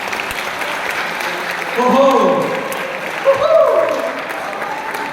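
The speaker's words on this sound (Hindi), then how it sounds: "जोरदार तालियां होनी चाहिए द ज्यूरी टीम के लिए" An audience claps for the jury team at the Marvi's Fair festival at Liaquat Memorial Library, a steady wash of applause that swells midway, with voices and an exclamation heard over it.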